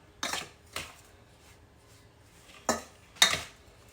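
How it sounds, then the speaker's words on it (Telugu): A spoon knocks against a pan while a thick jaggery mixture is stirred, making four sparse metallic clinks spaced irregularly over quiet background. "స్పూన్తో కలుపుతా."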